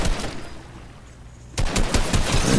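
Rapid burst of gunfire in a Fortnite match, a sudden loud volley after a quieter lull, continuing with dense repeated shots to the end with no talk.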